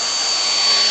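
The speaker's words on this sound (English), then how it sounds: "this is just an old blow dryer that I just use whenever" An old Revlon blow dryer runs on its cool-shot setting, a steady, loud, close airy whoosh with a thin whine on top that holds without a break.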